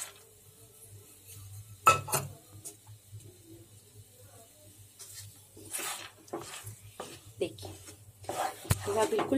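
Besan halwa with dry fruits being stirred in a kadhai: scraping spoon strokes and occasional clinks of metal on the pan, intermittent and fairly quiet, with soft background kitchen noise.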